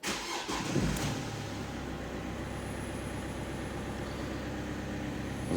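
Opel Zafira B car engine cranking and catching after a SIM module replacement, then settling into a steady idle that continues evenly to the end.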